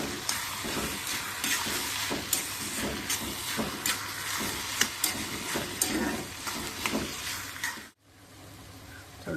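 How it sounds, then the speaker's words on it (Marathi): Onion sautés in a pan for prawn biryani, a steady hiss and sizzle broken by repeated sharp scrapes and stirring knocks, close up, ending in a brief silence before it resumes. "तर कांदा शिजला असेल, अगदी परतून घ्यायचं."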